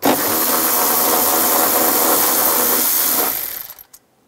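A bolt is taken out with a 10 mm socket during rear strut and spring replacement on a 2004-2009 Toyota Prius, making a loud, close, steady whir that runs for about three seconds and then cuts off.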